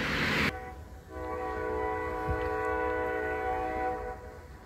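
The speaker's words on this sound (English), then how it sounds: "there's a train coming right now if y'all can hear it" Train passing at night, a sustained chord-like horn blast holding for several seconds over the low rumble of the train, moderately distant, after a brief burst of noise at the start.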